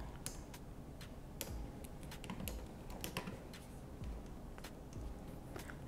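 Quiet keystrokes on a computer keyboard as a folder name is typed, a loose run of soft taps and clicks over a low background hum.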